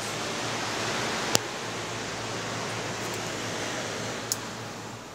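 Pool water lapping to and fro in a steady, soft wash of broadband noise with a couple of faint ticks, no voices over it.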